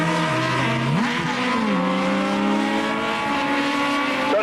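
Legend division race cars roar past on the oval at Tosa Raceway Park, engines sweeping up and down in pitch as they pass close, a continuous loud drone with no gaps.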